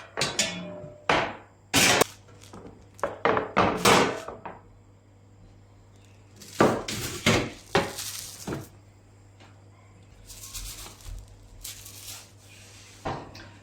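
Fried kadayıf dessert being flipped in a pan, a string of sharp knocks and clatters of metal and utensils in quick clusters, then pauses and a few more bangs, with no talk.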